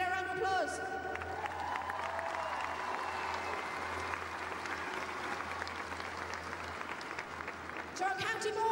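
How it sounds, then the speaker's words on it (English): Crowd applause during the presentation after the All-Ireland Senior Camogie Final, Galway v Cork, a sustained wash of clapping and some cheers filling the hall, with an amplified voice briefly heard at the start and end. "Can we get a round of applause?"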